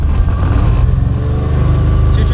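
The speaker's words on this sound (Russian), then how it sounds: "И мы включаем двигатель." The engine of a DG500M motor glider runs in a steady, loud, close drone with a rapid pulsing beat and no break.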